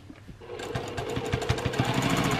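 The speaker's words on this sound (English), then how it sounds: "probably about every 1/4 of an inch I'm sort of free motion quilting this" A sewing machine free-motion quilting a small heart collage quilt starts up after a quiet half second, then runs in a steady, fast, close mechanical stitching rattle to the end.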